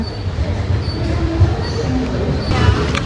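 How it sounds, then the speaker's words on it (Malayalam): The Kozhikode Jan Shatabdi pulls out of Thiruvananthapuram Central with a low, steady rumble of rolling cars and faint wheel squeals, heard from on board at close range. "കറക്റ്റ് 5:55 തന്നെ തിരുവനന്തപുരം സെൻട്രലിൽ നിന്ന് നമ്മുടെ കോഴിക്കോട് ജനശതാബ്ദി ഡിപ്പാർട്ടായിരിക്കുകയാണ്."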